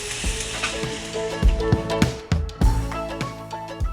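Shrimp cook in a hot pan on the stove with a steady sizzle, broken by several sharp scraping and clacking knocks of a utensil stirring, loud and close.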